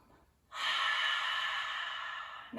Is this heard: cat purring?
no